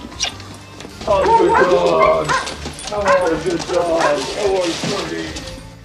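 Two pet dogs barking and yipping in a house beside a subway line, several sharp barks and whimpers close by, mixed with people talking throughout.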